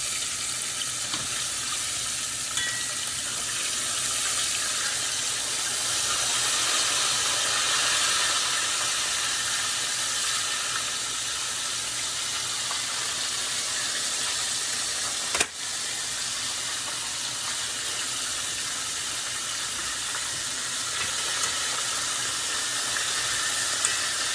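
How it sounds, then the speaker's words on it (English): Chicken fries in hot oil for Jamaican-style fried chicken, giving a steady, dense sizzle and hiss that continues close throughout, with one sharp click midway and no talking. "My chicken frying."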